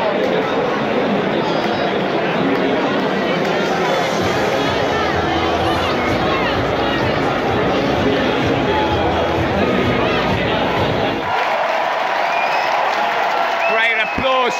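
Rugby stadium crowd of Irish fans applauding after a hard-fought New Zealand versus Ireland match, a dense, loud wash of clapping and cheering with crowd noise that thins sharply near the end.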